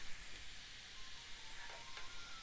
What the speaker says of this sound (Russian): на той же самой сковородке, где у нас жарились грибы, я обжарила лучок